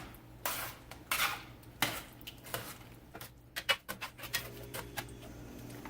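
A spoon scrapes and clinks against a metal pot while lasagna sauce is stirred, giving irregular close taps and scrapes with quiet pauses between them.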